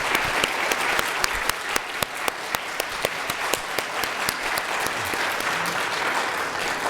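A Korean church congregation at Sunday service claps for its pastor, with steady, moderately loud applause where individual sharp claps stand out clearly above the crowd's wash of clapping.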